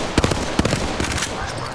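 Gunfire in the Apex Legends video game, with a few sharp rapid shots bursting close and loud over a busy game soundscape, all within a couple of seconds.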